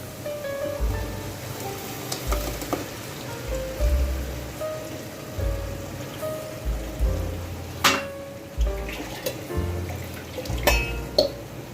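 Masala for egg sambar fries on a low flame with a soft, steady sizzle and crackle that sounds close. Low thumps and a few sharper clinks now and then break through the sizzle.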